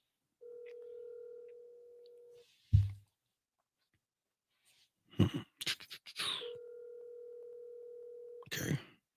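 A phone call goes unanswered: two long steady ringback or busy tones of about two seconds each, separated by a short cough-like burst and some brief rustling handling noise, heard close and clear with no talking.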